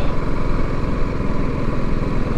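A BMW G310GS motorcycle ridden off road, its single engine droning in a steady, loud, close throb without pauses or voices.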